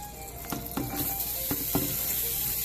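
Onions drop into melted Irish butter in a pan and sizzle steadily, with a few soft clattering knocks from a utensil over the close, continuous frying hiss.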